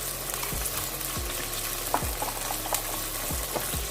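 Dal masala seasoned with salt and turmeric fries in a pan with a steady close sizzle, broken by a few sharp scraping stirs of a spoon.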